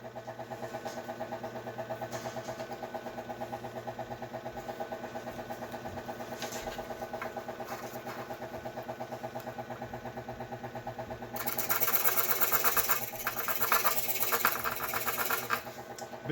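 A scroll saw cuts a circuit board with a fast, even mechanical chatter from the reciprocating blade, steady throughout and growing louder and harsher toward the end as the cut bites in.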